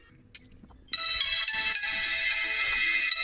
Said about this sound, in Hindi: आप मोबाइल को ऑन होने की आवाज़ आप सुन सकते हैं